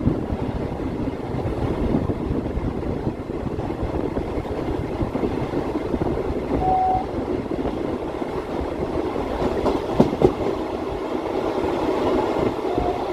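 A Bhuj to Rajkot passenger train runs through Kankot station, giving a steady, dense rumble of wheels and carriages with faint rail clatter and a brief high squeal partway through, with no talking.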